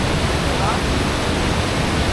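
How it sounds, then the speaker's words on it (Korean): The Longlong great waterfall in Youyuan Grand Canyon, Guangdong, a tall mountain cascade, roars as a loud, unbroken broadband rush that fills the whole short stretch. "용룡 대폭포입니다"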